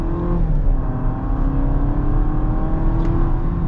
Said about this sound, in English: Okay, let's get our full acceleration here.